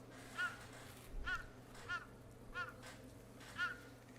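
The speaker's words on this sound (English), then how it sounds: "A crow. She has a lot to say." A crow caws outdoors in the wind, five separate harsh calls spaced roughly a second apart, fairly distant and faint over a low background rumble.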